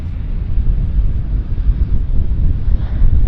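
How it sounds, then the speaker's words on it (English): An Air Canada Jazz aircraft taxis at Vancouver Airport, giving a low, steady rumble mixed with wind buffeting on the microphone, with no voices. "Now we've got our Air Canada Jazz taxiing into position"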